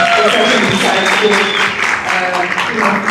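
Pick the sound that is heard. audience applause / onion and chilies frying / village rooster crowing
audience applause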